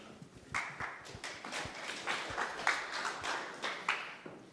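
A snooker crowd applauds a break with steady, fairly quiet clapping at a tournament in Bulgaria, a continuous patter of many hands with no talking over it.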